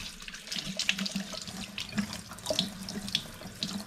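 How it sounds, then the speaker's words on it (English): Sweet potatoes rinsed under a running kitchen tap, a steady broadband rush of water into a sink with small splashy shifts as the vegetables are turned, close and continuous with no talking. "I'm also going to give these a wash."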